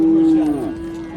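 A single cow gives one loud, close moo at a livestock market, a sustained low call that bends and fades near the end.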